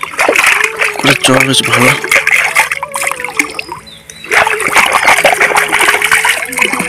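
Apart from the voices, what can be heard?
splashing water while washing in a pond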